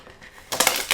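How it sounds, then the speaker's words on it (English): A Loklik cutting machine unloads its sticky cutting mat, a brief near rush of mechanical whirring and scraping that starts abruptly after a quiet moment, with no talk. "So I'm going to unload the mat"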